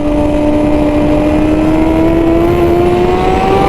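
A 2021 Honda CBR1000RR-R Fireblade SP with a BT Moto ECU flash, ridden through a turn: a loud, close, steady engine drone whose pitch climbs slowly and evenly as the bike pulls through the corner, with no voices.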